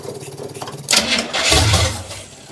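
Square body K20 truck engine cranking over and over without catching, a loud, rough grinding burst that swells and fades, with a brief voice behind it.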